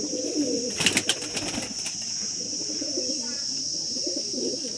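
Pigeons coo in low, repeated murmurs at close range, with a few sharp clicks or flaps early on and faint talk in the background.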